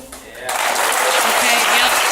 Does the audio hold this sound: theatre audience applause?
yes